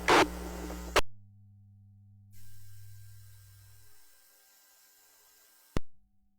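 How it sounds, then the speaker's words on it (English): Digital-mode radio transmission received on an analog-only radio over an amateur radio net, heard as steady low tonal hums and a long noisy hiss that cuts off sharply with a click, no talk over it. "Sounds like you're in digital mode or something."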